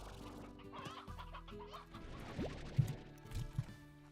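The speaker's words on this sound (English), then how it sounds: "So many chickens." Chickens clucking in the farming game Slime Rancher, a busy flock heard as steady overlapping clucks with a few louder calls near the end, over a constant low game background.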